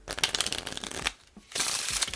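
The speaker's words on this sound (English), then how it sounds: "you just do any kind of shuffle that you want, just as long as you don't flash that bottom card" A deck of playing cards being shuffled by hand during a card trick, two bursts of riffling and flicking with a short pause between, close and fairly loud with no talking.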